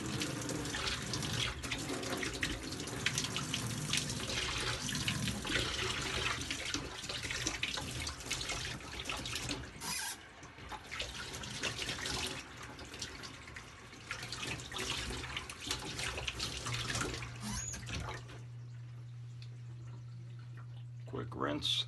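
Water running from a tap while rinsing during a shave with rose-scented shave cream, a continuous splashing stream that shifts and stops near the end, leaving a low hum.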